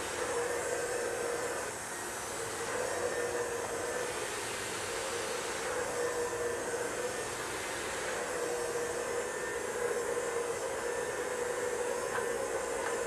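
A Neuro Dry hair dryer blows in a steady, close, continuous whoosh with a faint motor whine, holding level throughout with only slight shifts as it moves, and no talking.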